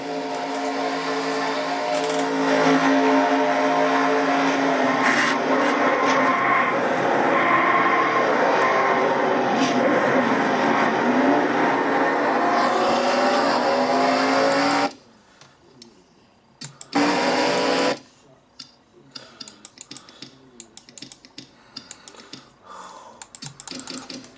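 Loud, continuous revving race car engine drone in a racing video game, with shifting pitch for about fifteen seconds, then cuts to near quiet with scattered clicks and a brief burst of engine noise.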